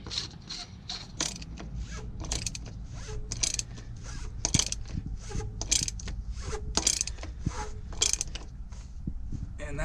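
A fuel filter cap on a 6.4 Powerstroke diesel is cranked down in a string of close ratcheting clicks and creaks, evenly spaced over a low background hum, with no talking.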